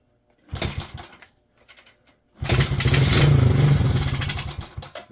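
Kawasaki KLX 110 dirt bike, long left sitting and running on choke after a carburetor cleaning, sputters briefly, then catches and runs with a close, raspy, rapid single-cylinder putter for a few seconds before cutting out.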